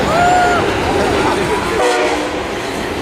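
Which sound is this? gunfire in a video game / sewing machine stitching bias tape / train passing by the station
train passing by the station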